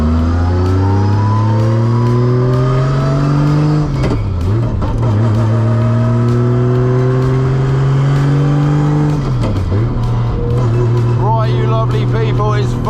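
A Toyota JZX engine drones loudly and steadily from inside the car while driving, climbing in pitch through the gears with two quick shifts.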